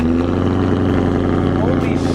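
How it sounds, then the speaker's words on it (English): A BMW M3 E92 engine runs loud and steady at close range, a dense continuous roar with deep low rumble throughout, while a voice briefly talks over it. "Holy shit, I forgot how loud the M3 was."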